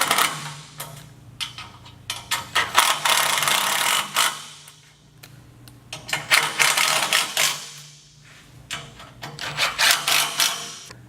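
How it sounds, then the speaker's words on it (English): Allen wrench with a 3/16 hex tip snugging up bolts on a Ryder bike rack, giving repeated rapid ratcheting clicks in bursts separated by short pauses, close and fairly loud with no talking. "you're going to use your Allen head, which is a 3/16, and you're going to go ahead and just snug them up"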